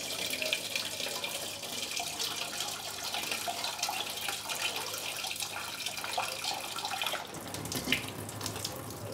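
Tap water runs steadily into a bowl of rice being washed, a continuous close splashing flow that shifts in tone near the end as the stream changes.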